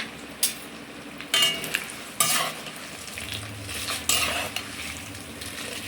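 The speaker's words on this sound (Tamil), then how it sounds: "தாளிச்சுட்டுருக்கேன்" Urad dal, chana dal and peanuts crackle and sizzle in hot oil for a temple-style puliyodharai tempering, with steady frying hiss broken by sharp bursts and clinks of a ladle stirring against the pan.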